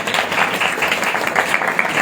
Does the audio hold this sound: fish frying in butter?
no